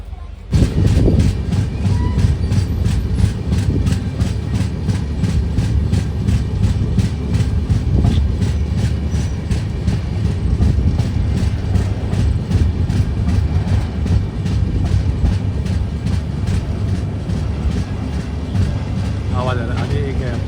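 Express train 22654 from Mumbai to Thiruvananthapuram running along the rails, heard from inside the carriage as a loud, steady low rumble with continuous clickety-clack, broken by a sharp bump near the start and faint voices in the background.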